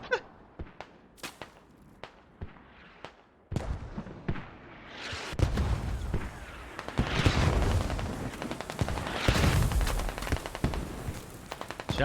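Gunfire erupts in the video game Squad during an infantry fight on the Chora map, with a few sharp isolated shots followed by a dense, sustained barrage of rapid automatic fire and blasts close by.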